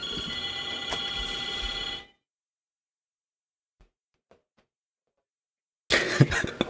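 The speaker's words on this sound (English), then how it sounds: "the phone's ringing" A telephone bell rings loudly in a podcast studio for about two seconds and stops, followed by near silence and then a brief burst of rustling or coughing noise.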